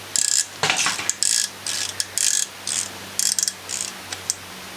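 A ratchet wrench is worked in quick bursts of sharp, close clicking, with short pauses between strokes and a faint low hum underneath.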